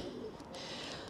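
Pigeons cooing softly in a public place in Fleetwood, a low steady murmur of coos close by under outdoor ambience and wind, with no talk.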